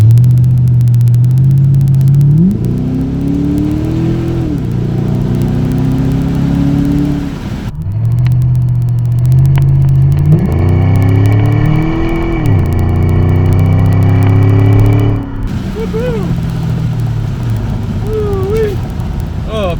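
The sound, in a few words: 2007 Ford Mustang GT engine while driving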